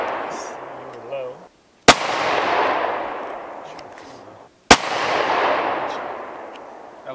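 Two sharp, loud gunshots from a gun fired at targets, spaced about three seconds apart, each followed by a long echoing tail outdoors; quiet talk comes just before the first shot.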